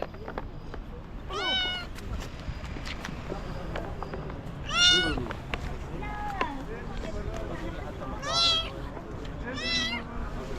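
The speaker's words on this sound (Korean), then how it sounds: "새끼 고양이." High, wavering kitten meows repeat four or five times, close and clear, over steady low outdoor rumble with people talking nearby at the Cairo Citadel in Egypt.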